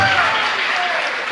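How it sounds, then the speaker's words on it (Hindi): An audience at a spiritual talk in Tejgarh bursts into sustained applause, a dense, even clatter of many hands that fills the whole moment without voices. "क्यों बस तेजगढ़ नाम आ गया तो ताली बज जाती है"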